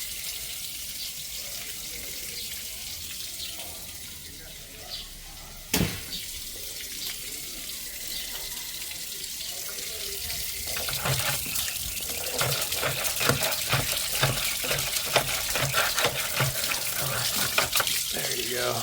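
Water gushes and splashes steadily from a water heater being drained during installation, a continuous rushing flow that grows louder and busier partway through, with a sharp knock near the start.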